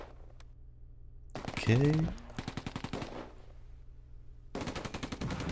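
Rapid bursts of machine-gun fire and single gunshots rattle through a Close Combat II: A Bridge Too Far battle, loud and close in clustered rhythmic volleys, with a brief spoken word between them.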